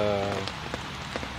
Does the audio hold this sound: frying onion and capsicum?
no